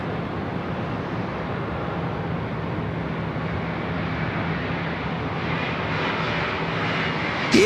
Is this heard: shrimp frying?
no